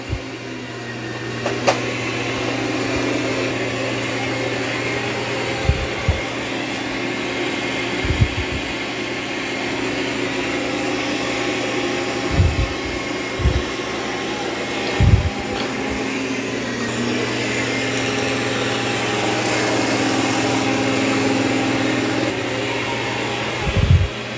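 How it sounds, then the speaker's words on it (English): A Dreame X40 robot vacuum cleans carpet with boosted suction, giving a loud, steady motor whine and airflow hum, with occasional brief knocks and bumps as it moves along. "Now it will increase suction also when it senses it's on carpet."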